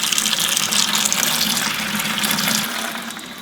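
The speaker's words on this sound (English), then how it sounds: "So I'm going to turn on the water and we'll see when it gets clear." Water running through a home water filter resin tank, a steady loud gushing rush with hissing spray and air bubbles, continuous and close, easing slightly toward the end.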